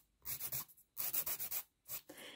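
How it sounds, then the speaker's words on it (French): Nail file stroking straight across a fingernail in a nail technician lesson, three short bursts of close, dry rasping, each made of several quick back-and-forth scrapes with brief silences between them. "quand on veut faire un beau carré, il faut simplement limer vraiment bien bien droit"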